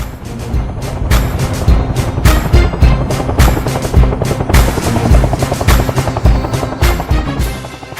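A UH-1J Huey helicopter thumps with a loud, steady, rapid blade slap over a continuous engine drone, close and sustained throughout.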